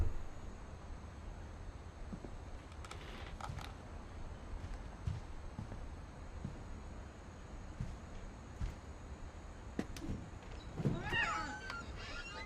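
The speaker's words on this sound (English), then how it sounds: "Ooh, the kitty cat." A cat meowing inside the video game What Remains of Edith Finch, faint and brief over a soft ambient game background with scattered small clicks and taps.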